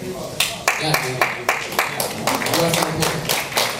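An audience at a Q&A with a musician in Gothenburg claps in a dense burst of many hands that holds at steady loudness, with a voice faintly mixed in.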